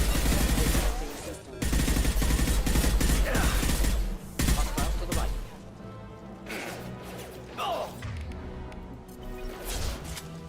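Loud bursts of rapid gunfire with disruptor ammo crash through a Mass Effect 2 firefight. Dense volleys come in quick succession, then ease into sparser shots and impacts.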